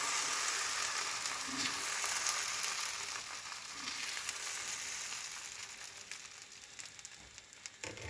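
Green gram dosa batter sizzles on a hot pan, a steady close crackling hiss that slowly fades over several seconds, with a few faint clicks and no voices.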